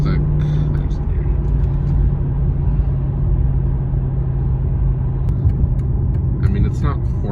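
A stock high-mileage Mercedes E55 AMG with a tuned transmission rumbles steadily at about 2000 RPM and 30 mph, a constant low engine drone filling the cabin, with faint clicks as the automatic shifts gears.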